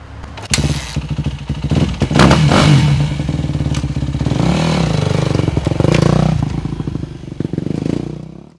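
A dirt bike engine revs close by, loud and rising through several throttle bursts with clattering and thumps, before easing off at the end.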